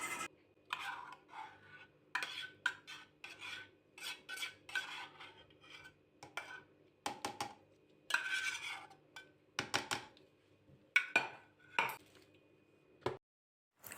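A spoon stirs a hot starch mixture into garlic sauce in a pot, making repeated scraping and clinking strokes in uneven bursts, close and fairly quiet, with brief pauses between.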